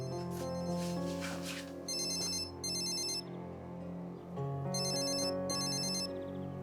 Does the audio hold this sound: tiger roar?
no